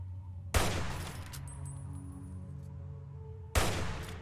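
Gunfire in Fallout 3 comes as two loud, sharp bursts about three seconds apart, each cracking out abruptly and decaying into a quieter stretch of faint humming tones between them.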